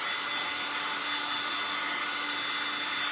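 A hair dryer blows steadily on a plastic bottle snowman craft, a loud, even whooshing hum that holds for a few seconds with no talking.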